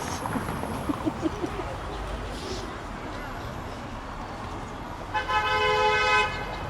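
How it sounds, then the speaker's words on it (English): Busy street ambience in Chongqing, China, with voices and traffic, a few short horn toots early on and a longer, louder honk near the end. "the horns, there'll always be horn sounds"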